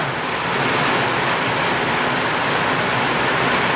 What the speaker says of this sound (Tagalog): Buhos na buhos yung ulan dito